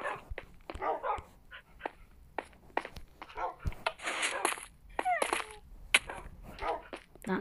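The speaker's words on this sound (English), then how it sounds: "Let's go check on our dogs" Several dogs bark and yip in short sharp bursts, close and fairly loud, with whimpers in between, while a person talks among them.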